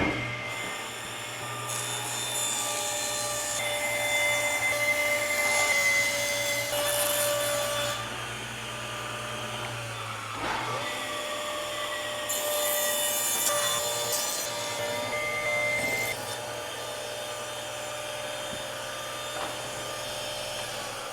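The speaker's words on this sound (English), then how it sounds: "now to cut these rough cut strips down to final size on the table saw." A table saw ripping rough-cut wood strips to final size for toy storage shelves, a continuous loud whine and hum with the blade biting into the boards again and again, close and without talking.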